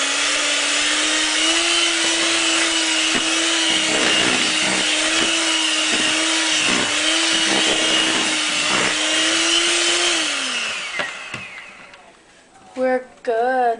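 An electric mixer whirs steadily through buttercream at close range, its motor tone holding level before winding down near the end, followed by a few short clinks.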